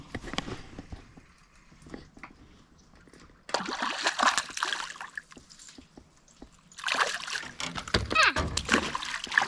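A caught crappie drops back into a lake in South Georgia, making two bursts of splashing and sloshing water close by, separated by quieter moments with faint background sounds.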